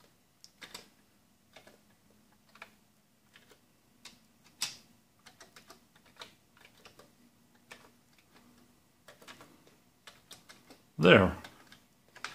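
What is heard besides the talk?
typing on an old Commodore 64 keyboard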